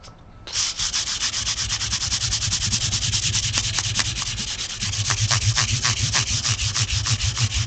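Hand sanding with sandpaper, steady rhythmic back-and-forth rasping strokes close to the microphone, continuous for several seconds after a quiet start, with no voices.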